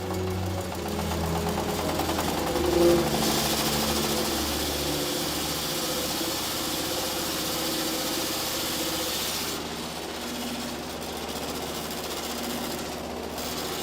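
An old, worn motor-driven mill grinds maize into flour with a continuous loud mechanical drone and rattling vibration, the grinding sound shifting slightly partway through, with no voices.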